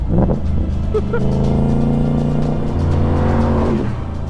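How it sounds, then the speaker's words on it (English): A 5-litre V8 in a Shelby Cobra CSX10000 roars loudly and steadily from close by, holding a deep, sustained drone with a brief rise in revs, mixed with wind buffeting. "The 5-litre V8 is ridiculously loud."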